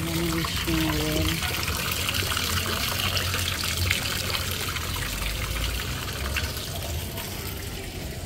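Water trickling and splashing steadily in a wishing well at a beach hotel in La Union, continuous and fairly close, with a voice briefly audible at the start.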